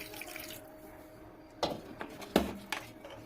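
Water poured into a cooking pot of prawns for a Kerala prawn theeyal, heard as a few short, close splashes and gurgles over a quiet kitchen background.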